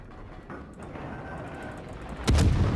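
Cruiser gunfire in World of Warships, a Tier 7 New Orleans battle: a low rumbling game ambience builds, then a single loud, booming naval gun blast erupts near the end and lingers heavily.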